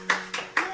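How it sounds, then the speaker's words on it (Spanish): Three quick hand claps from a small group applauding, close and sharp, each burst brief with a short pause between. "Un aplauso para ella."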